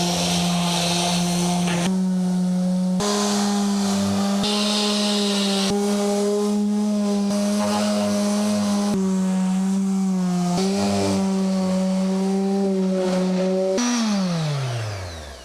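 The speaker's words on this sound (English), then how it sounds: "I will go ahead and sand everything inside the van" A power sander works over the plywood interior of a DIY camper van with a loud, steady motor whine. It breaks off briefly several times, then spins down at the end.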